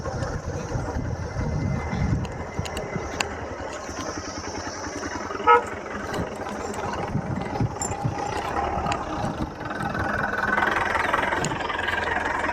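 A motorbike engine idles and runs near a river crossing, a steady mid-pitched chugging throughout with occasional revs and clicks, rushing water and faint voices in the background.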